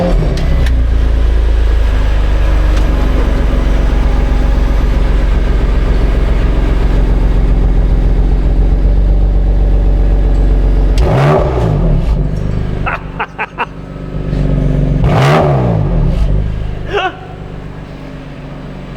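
A 2021 BMW M2 Competition coupe in Sport Plus mode idles with a deep, loud rumble, then its engine is blipped in two sharp revs that rise and fall quickly, followed by a smaller third blip.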